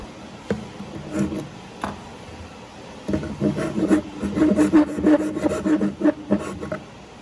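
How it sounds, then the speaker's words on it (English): Small round rasp and square file working wood to fit bar stool parts, giving irregular scraping strokes that start sparse with a couple of sharp knocks, then turn steady and louder after a few seconds, with no voices. "we're going to take a little round rasp, and then we're also going to take a little square file"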